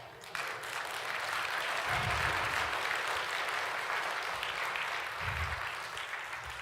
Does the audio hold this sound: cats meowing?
no